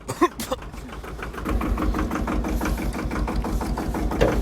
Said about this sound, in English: The mighty tractor starts.